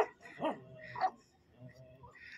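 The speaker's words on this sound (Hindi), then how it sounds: "दूसरे ग्रुप के कुत्ते को भगा रहे ये सारे।" A pack of dogs, a mother and her pups, outdoors in rain, chasing off another group's dog with a few sharp barks and yelps at a moderate distance, followed by softer whines.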